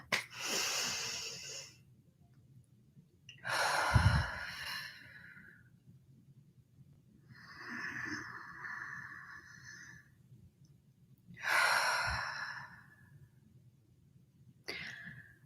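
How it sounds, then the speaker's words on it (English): Deep, slow breaths drawn in and let out during a calming breathing exercise, four or five long airy inhales and exhales spaced several seconds apart, close and fairly loud against quiet room noise, with no talking. "let's take another breath"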